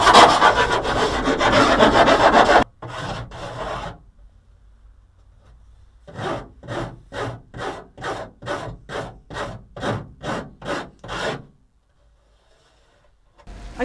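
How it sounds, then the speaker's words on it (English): Rhythmic rasping strokes of a hand file shaping the cut edge for a campervan window install, about a dozen even back-and-forth passes after an initial burst of harsher rubbing, close and fairly loud with no talking. "Okay, so it's filing time now."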